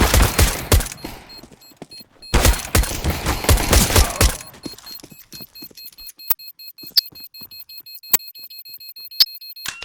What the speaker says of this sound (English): Defusing the bomb.